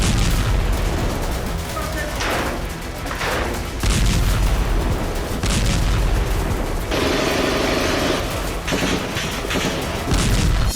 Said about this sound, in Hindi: इस बीच आईडीएफ ने कई इलाकों पर एयर स्ट्राइक शुरू कर दी।